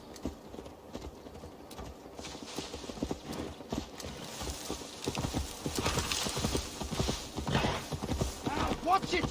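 Horse hooves clip-clopping in Assassin's Creed Valhalla, a busy irregular patter of steps close by, with voices and a whinny mixed in as the ride continues.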